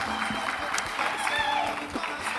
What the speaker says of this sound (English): Can we clap until they get to their seats?